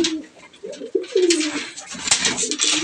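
Pigeons coo in a net-covered breeding enclosure, low throaty calls repeating close by in an irregular rhythm, with some rustling and brief higher noises mixed in.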